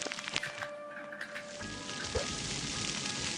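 Rain from a rain cloud in the puzzle video game Mimpi, a soft steady patter that thickens after a few sparse opening drops and tones.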